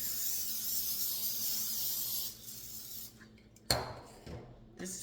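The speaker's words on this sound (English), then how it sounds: "Canola Oil Blend, just to make sure it doesn't stick. Let's give that a good spray" Canola oil blend cooking spray hisses in a long, soft, continuous burst onto a baking pan, then stops and is followed by a sharp clink and light handling noises close by.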